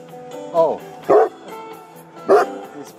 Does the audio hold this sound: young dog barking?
yes